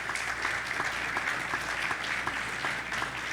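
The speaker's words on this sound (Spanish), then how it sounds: "tenemos a doctor Víctor Manuel Ramos, un aplauso para él, por favor." An audience bursts into steady, dense applause at an academic talk on Morazán's pedagogical ideas in Honduras, a continuous wash of clapping hands filling the room without a break.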